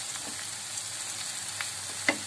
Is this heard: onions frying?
yes